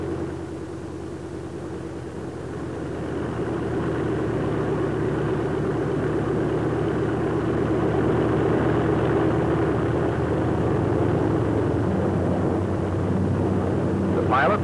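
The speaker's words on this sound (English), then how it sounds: "let's do a takeoff with flaps down" A Grumman TBF Avenger takes off with its flaps down, its piston engine producing a loud, steady droning roar that swells slightly and holds throughout, with rushing wind noise over the top.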